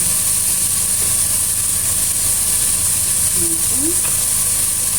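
Steady frying sizzle of a Filipino mung bean stew in a pan after small shrimp are added, a constant broadband hiss throughout with a couple of faint clinks, no talk.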